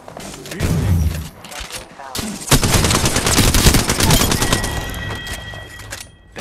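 Rapid bursts of gunfire from the battle royale game Apex Legends rattle in dense, sustained volleys, loud and close, with a player's voice speaking over the shooting.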